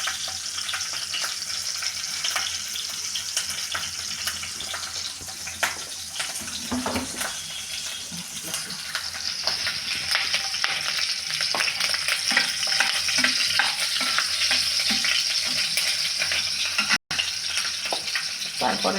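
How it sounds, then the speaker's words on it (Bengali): Chilies fry in a pan as the start of a radish curry with putti fish, giving a steady close sizzle with stirring scrapes and a brief sharp clatter near the end. "আমি আগে মরিচটা ভাজা নেব মূলা তরকারির জন্য"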